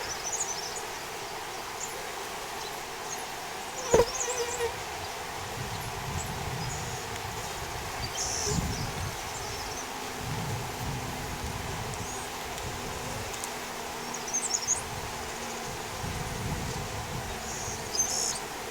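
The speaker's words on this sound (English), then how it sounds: "Wow, there are so many bees." Honey bees drone around an open beehive during a beekeeping inspection, a faint, continuous buzzing hum with soft rustles and a few sharp knocks scattered through.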